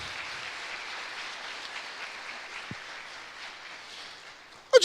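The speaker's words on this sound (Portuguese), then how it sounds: "Vão aplaudir meus netinhos aí," A church congregation applauds the pastor's grandchildren, a soft, steady spread of clapping from a distant crowd, ending in a brief louder knock.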